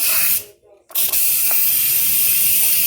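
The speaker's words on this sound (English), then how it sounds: "As you can see, it's a lot of steam coming out right there, very hot." An Instant Pot pressure release valve vents steam with a loud, close, forceful hiss. It cuts out briefly, then resumes as a steady jet.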